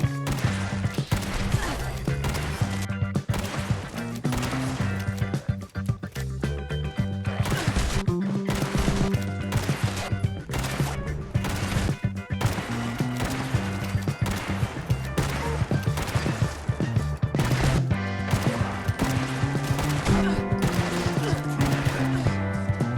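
Lever action rifle with anti-armour explosive effects firing in Fallout 76, heard as loud, dense, continuous gunfire and crashing impacts over game music, with no pauses between shots.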